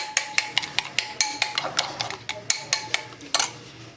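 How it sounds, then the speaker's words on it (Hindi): Yogurt being beaten in a bowl for a steamed chicken marinade, a spoon or whisk clicking steadily against the bowl in quick, regular taps close by, with no talking. "सबसे पहले हम लोग दही में जो है दही को इस तरह बीट कर लेंगे थोड़ा सा"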